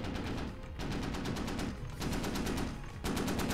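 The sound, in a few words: sniper gunfire in Squad video game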